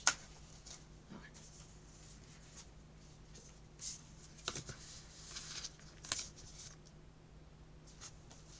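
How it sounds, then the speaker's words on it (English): Tarot cards are shuffled by hand in a quiet room in soft, scattered riffles and slides, a few brief rustling bursts spread over several seconds, faint and close. "So let me shuffle a little more."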